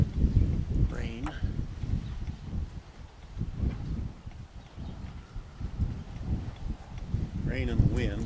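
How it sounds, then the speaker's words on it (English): Rain and gusting wind outdoors beside a Sunray Sport 109 camper, a steady broadband rush with low buffeting across the whole stretch and no talk. "Rain and the wind, sorry about the noise."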